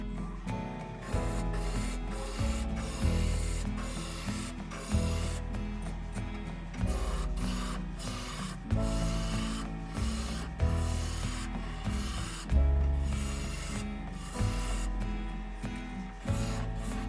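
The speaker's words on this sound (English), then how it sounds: "I'll be turning at 2000 RPM using my spindle roughing gouge." A wood lathe spins near 2000 RPM while a spindle roughing gouge shapes a Christmas tree ornament. The cuts come as a hum with repeated rasping scrapes roughly every second and a half, close and fairly loud.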